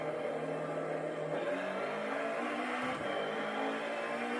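A simulated race car is driven around Sebring in a racing sim, with an engine whine rising and shifting in pitch as it accelerates, steady and moderately quiet.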